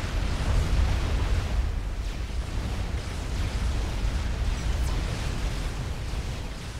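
A long, rumbling nuclear blast in Forged Alliance Forever, loud and sustained for several seconds as a continuous roaring wash without distinct separate booms.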